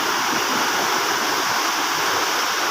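Fast, heavy flash-flood water rushing through a canal, a loud steady roar with no pauses throughout.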